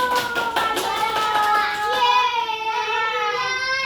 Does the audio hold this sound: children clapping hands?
yes